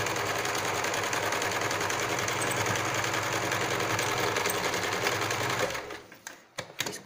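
A sewing machine runs steadily while stitching a carry bag, a dense continuous whir for nearly six seconds, then it slows and stops with a few short bursts and brief pauses.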